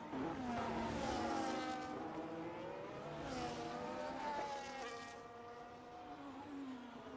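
A race car engine pulls down the straight in a sim racing game set at Bahrain, rising and falling in pitch through gear changes over several seconds, fairly quiet and steady.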